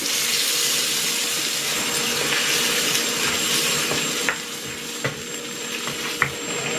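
Water poured into a pan of frying garlic chicken gives a loud running, sizzling hiss that drops off partway through, leaving softer bubbling and a few sharp clicks.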